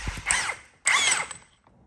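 An Ingersoll Rand impact wrench loosening a left-hand thread on a crashed Harley-Davidson Bad Boy, two short loud bursts of whirring, hammering rattle close up.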